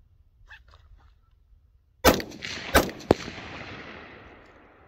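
A Ruger AR-556 MPR rifle fires three sharp shots outdoors, close by, with a loud first crack followed by two more and a lingering echo, after a few faint background sounds.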